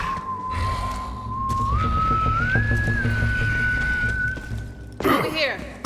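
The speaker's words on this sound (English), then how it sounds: "Someone was whistling." A single long whistled note in the video game Borderlands 3 holds steady, then glides slightly higher over a low rumbling background before cutting off into a brief burst of noise.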